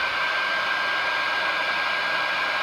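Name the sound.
hair dryer drying paint in gun inlay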